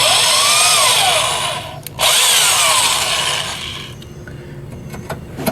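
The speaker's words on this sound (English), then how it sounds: "So back to drilling." A power drill bores into the metal body of a wrecked Toyota Celica GTS during front-end crash repair, a loud, steady high whine that dips briefly, resumes, then fades to lighter grinding near the end.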